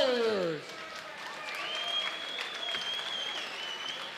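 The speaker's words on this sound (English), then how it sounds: "a round of applause for these two warriors" Crowd applause at a Chosen Few Fighting Championship event after a fight, opening with a brief voice, then steady broadband clapping and cheering from a large audience with a whistle-like tone running through it.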